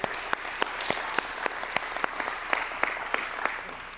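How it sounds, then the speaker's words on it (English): A small audience at a district meeting and election claps, the individual hand claps crisp and separately audible, keeping a loose, uneven rhythm for about four seconds with no voices on top. "So a round of applause for our employees as well."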